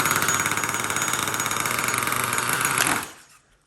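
A barn-find Traxxas Revo 3.3 nitro RC engine running rich buzzes with a rough, pulsing rattle at close range, then abruptly stalls and falls silent near the end.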